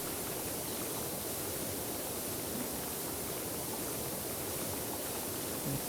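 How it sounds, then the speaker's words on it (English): A pressure washer in PowerWash Simulator sprays water as a loud, steady, unbroken hiss that keeps going from start to finish, with nobody speaking. "So I'm going to jump off and just spray along here."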